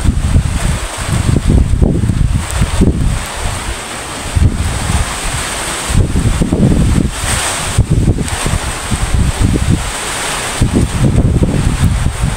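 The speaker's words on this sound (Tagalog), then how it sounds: "Kunting hangin na lang ang naranasan namin dito sa Bicol, Naga City." Steady typhoon wind roars against the microphone in gusty surges, loud and continuous, with a broad rushing hiss throughout, in Naga City, Bicol, Philippines.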